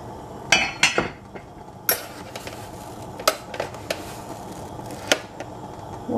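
A big metal spoon clinks repeatedly against a pot while sugar is added to raw milk for homemade yogurt, giving sharp, close, irregular taps and scrapes with quiet gaps between them.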